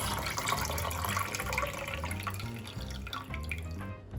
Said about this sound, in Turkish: Bunları sürahimize koyduktan sonra suyumuzu da ekliyoruz.